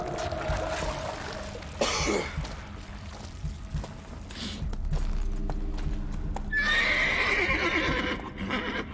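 A horse in the video game The Witcher 3 gives a loud whinny near the end, after hoof clops and snorting. The sound sits over a steady game ambience with eerie background tones.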